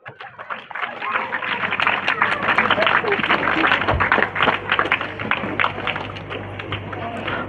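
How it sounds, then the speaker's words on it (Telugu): An audience at a Sunday school gift event claps for a recipient called forward, a close, dense and lively round of applause that swells and then tapers, with voices mixed in. "త్వరగా చప్పట్లు కొట్టండి"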